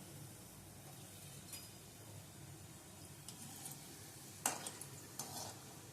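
Balls of bread gulab jamun dough frying in moderately hot oil, a faint steady sizzle with occasional soft stirring clinks and scrapes, quiet and close, no talking.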